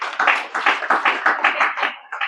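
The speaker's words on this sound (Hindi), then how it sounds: "उनके लिए तो तालियां हो जाएं" An audience at a health camp applauds, a brief burst of steady, fairly loud clapping from a group in a hall that fades out after about two seconds.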